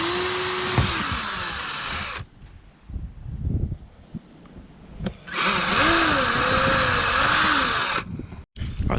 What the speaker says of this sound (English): So I'm just going to start with a pilot hole, both these spots, and then put the screw through.